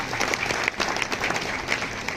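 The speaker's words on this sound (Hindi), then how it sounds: "जोरदार तालियों से स्वागत" Applause at a retirement farewell for a district panchayat officer, a dense crowd clapping continuously at close range throughout, moderately loud with no voices standing out.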